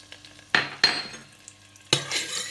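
Chili peppers are stirred in a pan of hot olive oil, with three sharp scraping stirs over a faint background sizzle, close and clear with no talk.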